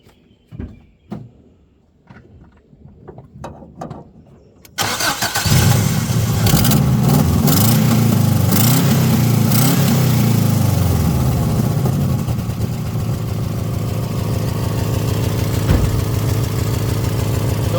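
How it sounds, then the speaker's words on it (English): After a few clicks and clunks, a 1948 Ford flathead engine with an exhaust leak cranks and fires up, then settles into a loud, rough, continuous idle. "Let me start it so you can hear the exhaust leak."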